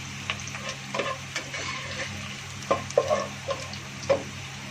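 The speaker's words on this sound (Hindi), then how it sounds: "ये देखिए लहसुन जो फ्राई हो चुका है।" Garlic frying in a pan while cooking chicken bhindi, a soft continuous sizzle broken by irregular scraping stirs and a few sharper clinks of the spoon against the pan.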